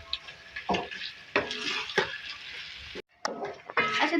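Ginger garlic paste frying with beef in a karahi, with bursts of stirring and scraping over a steady background sizzle, close by; a short pause near the end.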